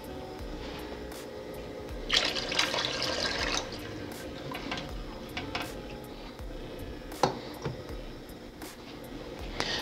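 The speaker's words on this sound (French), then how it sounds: "Et puis on va mettre de l'eau." Water runs and splashes into a cooking pot being filled for a seafood boil, a soft continuous trickle with a few louder gushes and small clunks, fairly quiet throughout.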